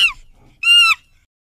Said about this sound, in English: Chimpanzee.